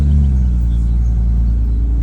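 A car easing down a driveway, its engine giving a low, steady rumble up close that holds unchanged for the full two seconds.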